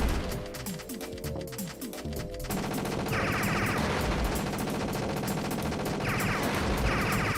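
Guns fired by a player in a video game: a dense, loud burst of rapid shots, then continuous heavy firing with sharp crackling bursts layered on top, close and relentless with no pauses.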